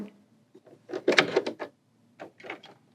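Doors of a Bernina L890 serger being shut, a few soft plastic clunks and clicks clustered close together, then two more light snaps after a pause, near and fairly quiet.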